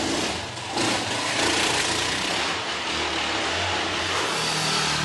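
A motorcycle engine revs for a film stunt on set, a loud, steady, rough engine roar with rising surges that continues for several seconds, with no talking.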